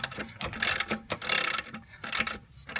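Socket ratchet clicking in repeated bursts while tightening the alternator bolt and bushing on a 1993 Jeep Wrangler with a 4.0 engine, close and crisp, with short pauses between strokes.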